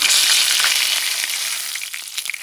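Fish frying undisturbed in a hot pan, a steady close sizzle that crackles and spits throughout, loud and unbroken with no voices.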